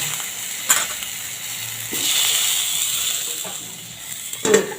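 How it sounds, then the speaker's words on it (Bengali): Tomato fries in a pan with a soft continuous sizzle, swelling mid-way, while occasional clinks and scrapes of a utensil punctuate it; close and fairly quiet, no talking. "আর টমেটোটাকেও এইভাবে আমি একটু ভেজে নেব"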